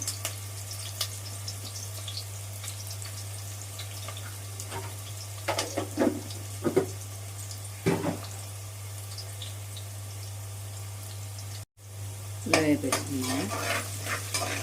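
Mustard seeds, black pepper, cumin and fenugreek fry in hot oil in a pan, with a steady sizzle under a low hum. A spoon scrapes and stirs intermittently, making irregular clinks and rustles.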